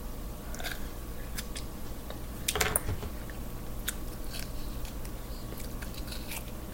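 Candy corn flavored cream cookies are bitten and chewed close to the mic, with one sharp crunchy bite followed by soft, steady chewing and faint crackles.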